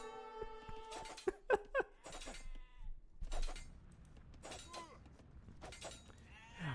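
Sheep bleat in a strategy video game: several short, wavering bleats in quick succession near the start, followed by scattered clicks and impact sounds from the game.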